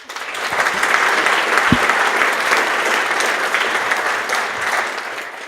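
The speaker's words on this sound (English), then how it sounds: "give him a hand of applause" An audience at a Clojure programming conference gives a speaker a hand, with continuous, dense clapping from a sizable crowd that holds steady for several seconds and is heard alone.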